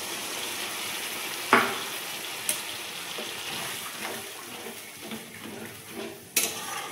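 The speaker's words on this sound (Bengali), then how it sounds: "গ্রেভিটা এবার ফুটে উঠেছে" Prawn curry gravy with coconut milk simmering in a pan, a steady low sizzle and bubbling hiss with a few sharp clinks of a utensil against the pot, no voices.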